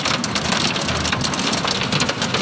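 Heavy night rain pours down in Guwahati, Assam, a dense, loud, continuous roar of drops drumming on surfaces with gusting wind and a low rumble beneath, steady throughout with no voices.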